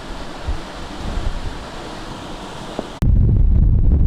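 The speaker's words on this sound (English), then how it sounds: "You can even see down there, or hear the water running." Running water rushes steadily outdoors along a rural railway walking route, a broad continuous wash, then cuts abruptly to a louder, closer roar dominated by wind buffeting the microphone.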